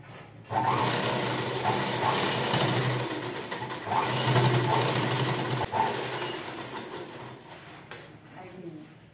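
A sewing machine stitching a blouse runs in a close, continuous mechanical whir for several seconds, starting abruptly and stopping near the end, with a voice speaking faintly beneath it.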